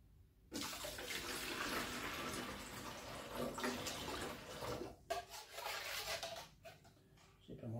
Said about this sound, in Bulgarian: Сипем още малко вода и ще сложим още едно пакетче.